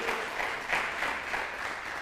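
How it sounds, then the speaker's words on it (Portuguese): A church congregation claps in a short, steady burst of applause lasting about two seconds, moderately loud with no voices over it. "Dá um aplauso assim"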